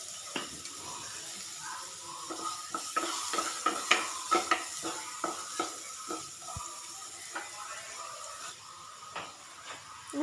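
Chopped onions for a Kerala-style vegetable kurma are sautéed in a pan, with a constant sizzle under repeated scraping and clinking stirs, close and moderately loud.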